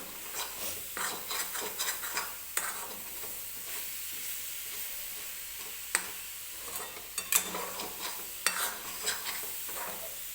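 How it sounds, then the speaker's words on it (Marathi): Grated coconut and sugar mixture stirred in a pan over low gas, a soft continuous sizzle with repeated scraping strokes and occasional light clinks of spoon on pan, close and quiet. "हे बघा मी हे मिश्रण जे आहे ते सारखं असं हलवतीये"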